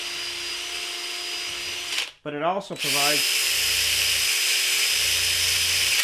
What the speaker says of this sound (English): Now I'll continue drilling these